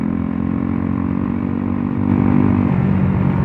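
A Pulsar NS 125 motorcycle ridden on the road with its exhaust removed, giving a loud, raw, steady engine drone close by that swells slightly as the throttle opens near the end.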